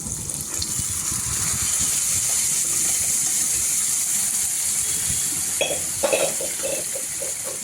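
Boiled chickpeas with their cooking water pouring steadily into a pot, a continuous gushing splash, followed near the end by a few clinks of utensils.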